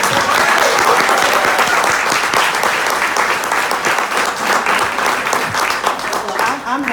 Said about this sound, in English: will you just give a hand to Linda Johnson Rice?